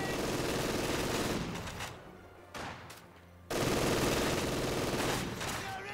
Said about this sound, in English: Now what we can do is we can fire a rifle grenade into there.